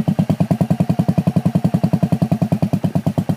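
A motorcycle engine holds a steady, rapid, pulsing throttle while being ridden on grass, loud and close throughout, with no voices.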